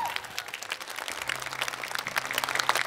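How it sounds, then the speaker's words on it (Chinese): Applause from a studio audience at a televised comedy competition, bright dense clapping that swells toward the end over a soft music bed. "掌声再次送给大碗娱乐的优秀的演员们"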